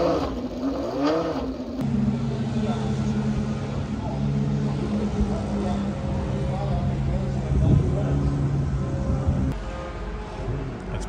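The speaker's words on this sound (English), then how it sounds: "You can turn up the volume to listen to the cars" Race cars at Road America during the WeatherTech International Challenge weekend produce a steady engine roar and whir in the background while someone talks over it.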